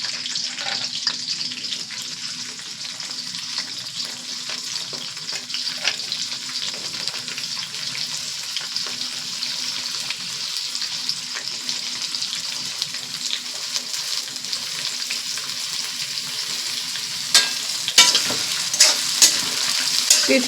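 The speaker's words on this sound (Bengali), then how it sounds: "পেঁয়াজগুলো তেলের মধ্যে দিয়ে দেব।" Chopped onions dropped into hot oil with bay leaf and dried chilli, a continuous bright hissing sizzle at steady loudness, with a few sharper crackles and scrapes near the end.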